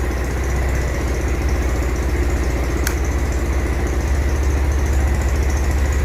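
A Venom X20 Grom clone motorcycle with about 25 miles on it idles just after an oil change, a loud, steady low putter that runs on without a break, close to the bike.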